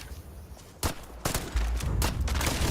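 Gunfire in the video game Starfield, during a fight in Akila City: a few sharp shots followed by a denser, sustained burst, loud and close, with no talking.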